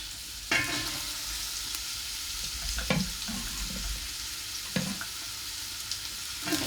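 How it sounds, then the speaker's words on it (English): Ciambotta vegetables sizzle with garlic in a hot pan, a steady crackling fry broken by a few sharp clinks and scrapes from stirring. "now it's really heating up and sizzling"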